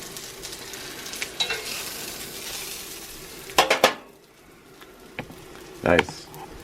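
Chicken fries in a cast iron pan with a steady sizzle, broken by a few loud utensil scrapes and clanks against the pan, with a quieter stretch after the stirring.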